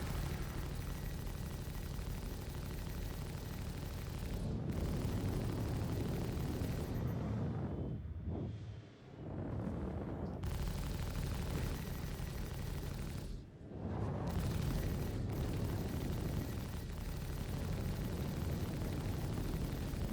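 A Vulture spaceship being destroyed in the space game Star Citizen, a sustained loud roaring blast with rumbling debris and crackle, dipping briefly twice before surging again.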